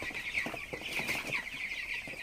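Broiler chickens about 18 days old on a poultry farm cluck in quick, overlapping soft calls over a constant high-pitched background drone, with no voices.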